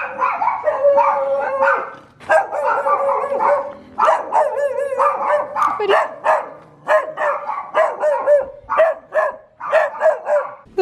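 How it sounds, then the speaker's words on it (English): Several dogs bark wildly outdoors near a rainforest, a loud, close, continuous volley of overlapping barks and yips in rapid bursts with brief pauses, no speech over them. "Those dogs are going crazy."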